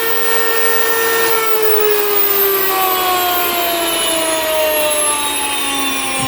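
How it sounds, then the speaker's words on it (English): An electric grain mill grinding grain gives a loud, steady high-pitched whine with a rushing roar, its pitch sliding slowly downward as it runs. "So this mill grinds these grains up so fast."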